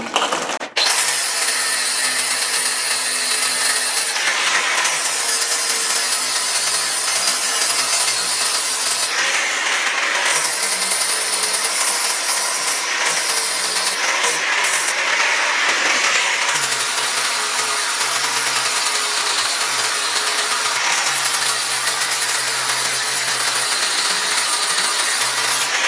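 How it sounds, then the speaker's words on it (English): A flap wheel on an angle grinder smooths welds on a 2005 C4500 Kodiak dump truck project, a loud, steady abrasive whine running almost continuously with a few short breaks and slight changes in pitch. "going from that coarse grinding disc to a flap wheel, and this is basically going to just pretty this up"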